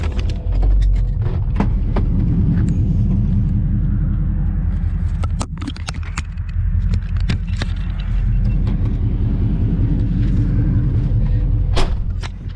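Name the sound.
1968 Charger with 5.7 Hemi doing a one-wheel peel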